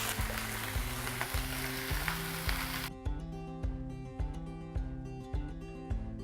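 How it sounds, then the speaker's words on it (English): Leeks sizzle and fry in a pan, first with a loud, dense hiss that then drops to a quieter steady crackle, heard alone with a rhythmic musical backing underneath. "we fried in our leeks for about 2 minutes"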